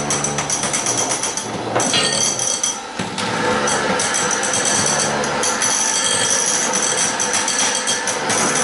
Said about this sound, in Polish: Przepraszam za remont, u sąsiada jest remont.